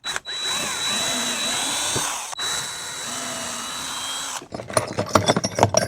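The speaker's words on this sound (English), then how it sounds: "Now we're actually gonna screw a pilot hole in here too." An electric drill runs steadily drilling a pilot hole in wood for several seconds with a short pause, then gives way to clattering, knocking handling noise at the end.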